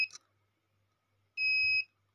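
Multimeter testing a diode on a lamp PCB: a very short chirp, a quiet gap, then a single clear, steady electronic beep lasting about half a second.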